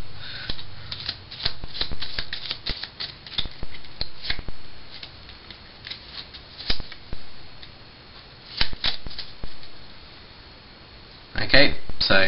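Playing cards being handled for the injog card trick, giving a steady run of close riffling, flicking and snapping sounds that ends in a louder burst of shuffling.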